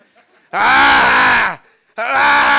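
A human voice imitates a dog's shrill, drawn-out scream twice, the first cry long and the second starting after a short pause.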